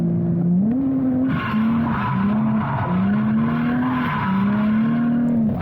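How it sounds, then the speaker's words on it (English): An LS-swapped 350 drift car rips past at a dirt-and-dust track, its engine note rising and wavering as the tyres skid and squeal, loud and close for several seconds. "This LS Swap 350 just rips right on past me."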